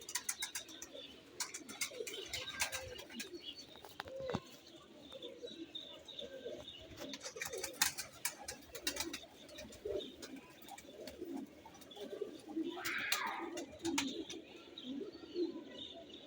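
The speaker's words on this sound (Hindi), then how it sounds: "ये मेल है गोल्डन कमगर।" Pigeon cooing from a golden kamgar, an adult male about 13–14 years old, with soft repeated low coos and some chirping over a busy background of other birds, steady and moderately close.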